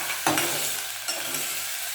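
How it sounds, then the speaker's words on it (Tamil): Bitter gourd sautéing in a pan with a generous amount of oil, a steady close sizzle of frying with stirring scrapes around a quarter second and again near one second, no talk. "அடி பிடிக்காத அளவுக்கு வதக்கலாம்"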